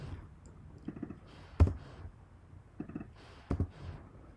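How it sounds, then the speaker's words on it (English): A computer mouse clicks in quick pairs, two clusters of rapid double clicks separated by a pause, light and close, with a sharper tap in each cluster and no talking. "So just double click on these emojis to add them"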